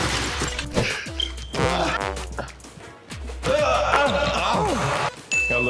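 At a game show, a ball is shot at a small backboard: a series of sharp hits, bounces and clangs ring out, with crowd noise and voices around them.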